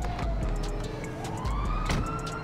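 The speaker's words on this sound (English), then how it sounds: "I don't know if that's the police or that's the ambulance." Police or ambulance siren wailing in the GTA 5 video game, a steady rising and falling tone that runs loud throughout over dense city street rumble.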